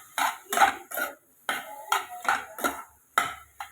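Mushrooms with turmeric powder being stirred in a pan, with a string of distinct scraping and clinking strokes of a utensil against metal and short pauses between them.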